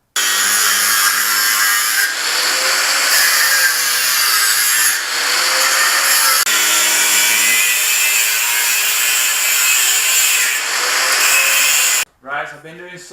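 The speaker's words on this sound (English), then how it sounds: "I've been doing some cutting with a grinder." An angle grinder cuts through the exhaust silencer and catalytic converter of a Mazda MX5 under a brace, a loud continuous high-pitched whine with a few brief dips, stopping abruptly near the end.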